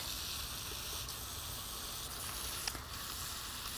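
Water sprays and hisses steadily while deep-watering potted topiary plants in a garden, a constant close broadband rush with a few faint taps and no talking.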